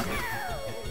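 A cat meows in the Touhou Puppet Play video game, a single short falling cry heard close and loud over game music.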